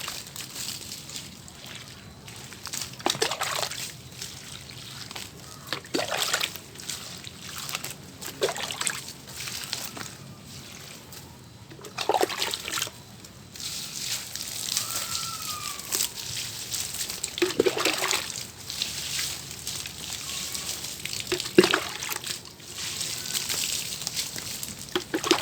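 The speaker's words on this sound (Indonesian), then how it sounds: "Oke, saya siram ya sobat ya." Water trickles and splashes in repeated pours onto soil in a potted pandan plant, gentle sloshing bursts every few seconds, close and fairly quiet.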